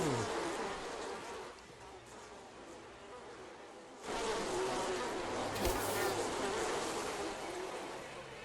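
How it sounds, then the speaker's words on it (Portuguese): A huge swarm of bees buzzes continuously in a video game. The dense, steady drone runs throughout and swells louder about halfway through, with no voices over it. "Assim que ele vê o nosso personagem, logo joga uma remessa gigantesca de abelhas, ou seja lá o que foi isso pra cima da gente."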